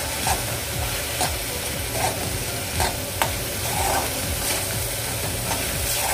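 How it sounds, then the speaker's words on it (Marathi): Mushroom masala with turmeric sautés in a pan over a low flame, a steady sizzle broken by periodic scraping strokes of a spoon stirring the spices, close and continuous without voices. "आता व्यवस्थित मसाला आपण मिक्स करून घेऊया, परतून घेऊया"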